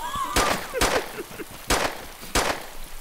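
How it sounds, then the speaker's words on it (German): Makarov pistol fire in DayZ: four sharp, fairly loud shots at uneven intervals, each with a short echoing tail, heard from some distance. "Das klingt nach Makarov."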